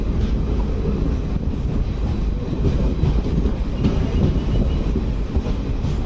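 The 16751 Chennai Egmore–Rameswaram Express rumbles at Ramanathapuram, a loud, constant rolling roar with faint clickety-clack of wheels on rails, heard from close by with no talk.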